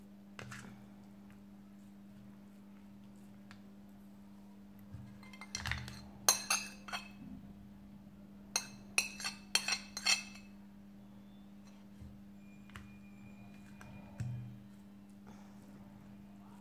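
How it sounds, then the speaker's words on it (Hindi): A metal spoon presses grated beetroot juice through a strainer, producing a series of close, bright clinks and scrapes of metal against the sieve and bowl, clustered in the middle and then sparse, over a steady low hum. "छलनी ले लेंगे और इसमें उठा लेंगे और चम्मच की मदद से इसका जूस निकाल लेंगे चकुंदर का।"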